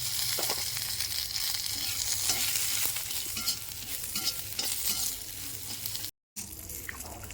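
Ginger, urad dal, dried chillies and garlic sizzle steadily in a hot pan with oil, with scraping stir strokes throughout and a brief gap near the end.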